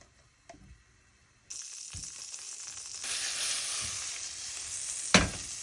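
Garlic and onion sauté in a pan as the base for a corned beef macaroni soup. A few faint clinks come first, then a steady sizzle that grows louder, with a sharp utensil knock near the end.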